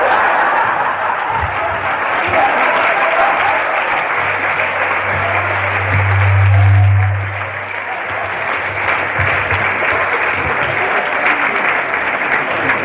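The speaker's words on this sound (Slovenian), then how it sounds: "da je ta navdišen aplavz pomenil to, da je bilo še kar avtentično" Enthusiastic audience applause after a comedy sketch at a first-Mass celebration, dense sustained clapping from a large crowd filling the room, loud and unbroken, with a brief low hum swelling in the middle.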